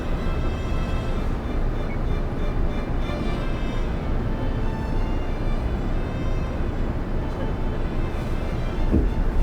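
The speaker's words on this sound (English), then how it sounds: "The train departs from Nara, the center of Osaka, with many people seeing it off" A steady, loud rumble of the Aoniyoshi sightseeing express train departing Nara, broadband and continuous throughout, with a brief squeal near the end.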